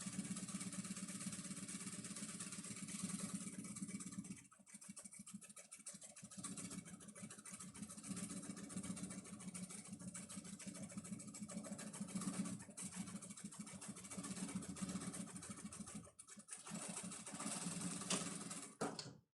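Sewing machine running steadily over a pattern line while making a travel case, a continuous mid-pitched motor whir with brief pauses near the middle and end.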